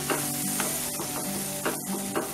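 Butter chicken masala being stirred into hot oil in a pan, a steady close sizzle broken by several scraping stir strokes at irregular intervals, with no voices.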